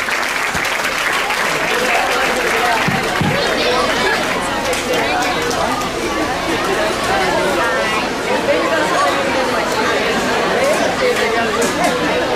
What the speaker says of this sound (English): let's give them a nice round of applause as they head back.